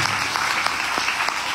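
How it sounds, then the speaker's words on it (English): An audience at a Hindu temple satsang in Guyana applauds, a dense, steady wash of hand clapping filling the space for the whole short stretch. "So give him a big round of applause with your two hands."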